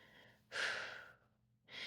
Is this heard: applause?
no